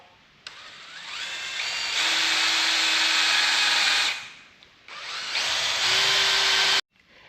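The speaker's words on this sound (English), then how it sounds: "Gonna re-drill for our felt." Power drill re-drilling an antique tractor end cap for a felt seal, two sustained whining bursts of a few seconds each separated by a short pause, close and fairly loud with no talk.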